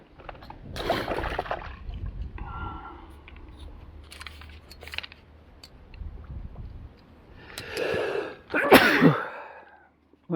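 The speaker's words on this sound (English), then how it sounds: "Sorry about that sneezing." A man sneezes several times outdoors at a fishing match, bursts near the start and a loud double sneeze near the end, with quiet rustling and faint background noise between.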